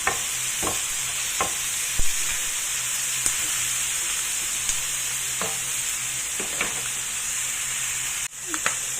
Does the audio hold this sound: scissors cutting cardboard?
no